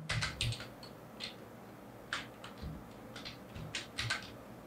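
Keystrokes on a computer keyboard while coding, tapping out quick clustered bursts of clicks separated by short pauses, close and clear with no talking.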